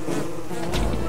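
Bees buzz in the video game Don't Starve Shipwrecked, a steady close droning hum that lasts the whole moment with no talk over it.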